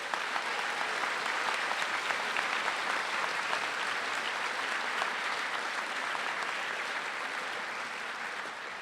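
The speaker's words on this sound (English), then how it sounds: "I would like to give all of us our hearty applause" Hearty, sustained applause from a large crowd at a college commencement ceremony, a dense, even wash of clapping that carries on without pause and tapers slightly at the end.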